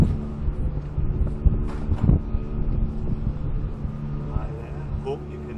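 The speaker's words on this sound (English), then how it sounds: "It's a bit windy at the moment" Strong wind buffets a microphone outdoors in a garden, a steady low rumbling roar with gusty swells and no break through the whole stretch.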